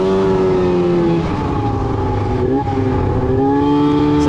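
An Arctic Cat M7 snowmobile engine drones steadily and loudly while riding, holding a sustained rev with slight pitch shifts and no pauses.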